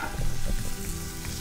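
Garlic, onions and mild spiced chorizo sizzle and fry in a pan as a paella base, a loud, close, steady crackle with some stirring and no talk.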